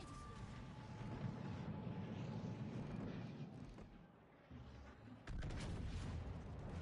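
Naval guns boom in World of Warships as ships trade fire, heavy low rumbling blasts and distant shots rolling under a steady background wash, with a sharper burst near the end.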